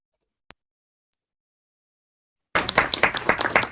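After near silence broken by a couple of tiny clicks, a burst of quick, irregular hand claps starts abruptly and carries on close and fairly loud to the end, as if several people on an online call are clapping.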